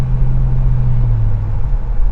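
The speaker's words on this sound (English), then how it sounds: "Beautiful sounds from this Buick V8." A 1970 Buick Electra V8 cruising on the road, its engine a deep, even low hum with a steady rumble that stays close and constant.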